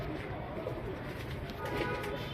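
Soft cooing from a male Gulzar pigeon of the Dhuma Boori line, a medium-bodied bird with trimmed wings and tail, held close over steady low background noise.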